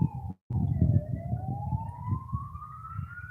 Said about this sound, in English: we got sounds of sirens in the background